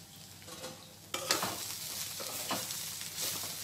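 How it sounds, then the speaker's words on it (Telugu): Peanut powder stirred into frying drumstick leaves in a pan: a gentle sizzle broken by repeated scraping strokes of a spatula, close and moderately quiet, no talking. "మనం తయారు చేసి పెట్టుకున్న ఈ పల్లీ పౌడర్ని కొద్ది కొద్దిగా వేసుకుంటూ మిక్స్ చేసుకోవాలండి"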